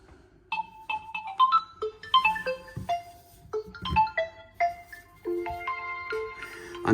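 A realme GT 2 phone plays a bright, melodic ringtone of quick chiming electronic notes in a bouncing pattern, steady and clear from the phone's small speaker with no talking.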